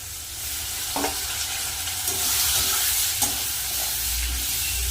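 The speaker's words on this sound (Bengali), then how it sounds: "মশলাটা একসাথে ভালো করে কষিয়ে নেব" Spice paste of turmeric, cumin and chilli powder with a splash of water stir-fried in a pan for a spicy fish, potato and eggplant curry, a steady close sizzle broken by occasional scraping stirs.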